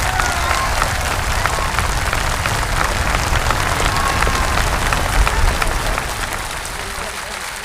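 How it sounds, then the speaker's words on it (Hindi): A large crowd at a Prem Rawat event for a Guinness World Record book reading claps loudly and continuously, a dense roar of applause that holds steady before easing slightly at the end. "ये जो तालियों का शोर है ये बिल्कुल बंद नहीं होना चाहिए, पीछे से भी तालियां आए।"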